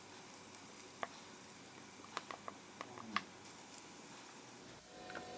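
Grated carrot sautés in ghee in a non-stick pan, giving a soft, steady sizzle with a few faint scattered pops and no voices.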